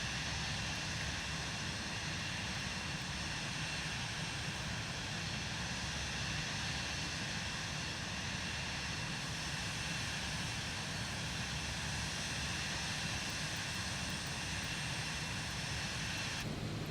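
Steady, loud jet engine drone inside a Cirrus Vision Jet, a single-engine personal jet, cruising near 240 knots on approach toward Catalina; an unbroken broadband roar holds evenly throughout with no talking.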